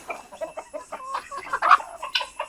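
Chickens in a backyard poultry coop cluck close by in short, irregular bursts, a few birds overlapping with one sharper squawk.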